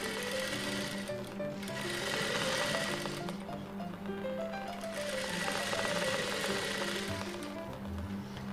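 A sewing machine stitches a blouse in a steady, fast mechanical whir with rapid needle chatter, running continuously and close, swelling slightly twice as the speed changes.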